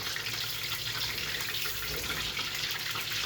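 Wontons frying in hot oil around 360 degrees, a steady, dense bubbling sizzle that holds at an even level throughout with no pauses.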